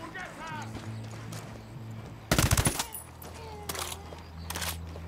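A short, loud burst of automatic gunfire in a tactical shooter video game crossing Ghost Recon with Rainbow Six, rattling close by for about half a second, followed by fainter shots later, with talk and a low background drone.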